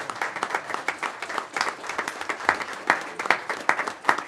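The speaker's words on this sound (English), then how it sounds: "let's give him a round of applause" A small group of attendees at a town board meeting applauds, with sparse, uneven claps from a handful of people, individual hand strikes standing out in a loose, irregular patter.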